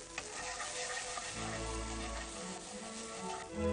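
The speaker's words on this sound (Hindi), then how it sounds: "इन सब चीजों को भून लें आप" Steady sizzling of vegetables, including boiled peas, frying in a hot pan, a continuous crackling hiss with no voices.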